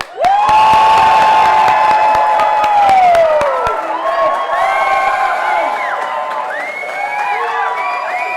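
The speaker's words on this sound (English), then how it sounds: "the groom's family would shout and cheer and try to be as loud and as impressive as possible" A wedding ceremony where the groom's family shouts and cheers as loudly as they can: one long, sustained whoop rises above the crowd, then a dense roar of cheers, calls and clapping carries on for several seconds.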